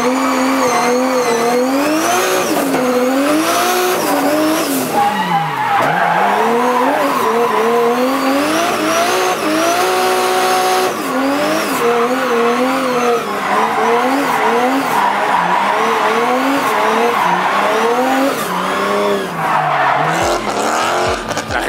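A Nissan 240SX drifting, with sustained wailing tire squeal that swoops up and down over a loud revving engine for about twenty seconds, close and continuous.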